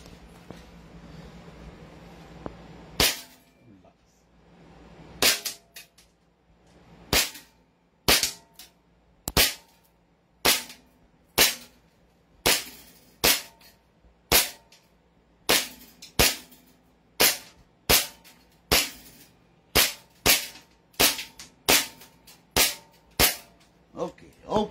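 A gun fires about twenty sharp, loud shots at a target at a steady, fairly quick pace. A brief murmur of people comes before the first shot.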